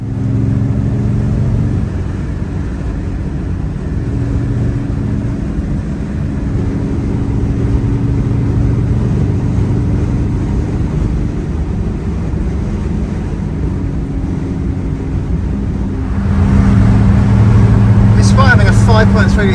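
A 5.3-litre V12 car engine hums in a steady low drone on the road, with road noise and someone talking over it throughout.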